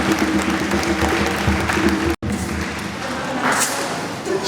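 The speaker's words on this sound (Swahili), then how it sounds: "Kama umebarikiwa chikia Bwana makofi." A church congregation claps together in sustained applause for the Lord during a service, with a voice speaking over the steady clapping until a brief cut, after which the clapping carries on.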